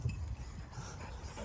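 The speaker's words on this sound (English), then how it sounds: "These lovely dogs." Dogs on a common make soft whimpers and low snuffling sounds, faint and close, in short uneven bursts.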